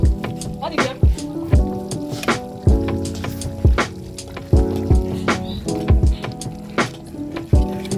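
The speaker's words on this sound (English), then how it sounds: "This is me when I'm stirring the soup." Thick Nigerian egusi soup is stirred in a pot, giving rhythmic squelching, thudding strokes about once a second, close and fairly loud over a tonal musical backdrop.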